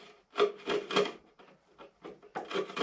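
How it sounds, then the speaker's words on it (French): Wood chisel paring splinters off a wooden multimedia cabinet piece, a few short close scraping strokes in quick bursts with brief pauses between them. "un petit coup de ciseau à bois ici pour enlever vraiment tous les éclats"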